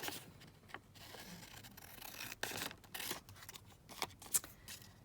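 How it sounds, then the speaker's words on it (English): Scissors snip and trim a faux paper postage stamp, giving soft, close crisp cuts and light paper rustling in irregular bursts, with no talking. "So again, let's trim this down."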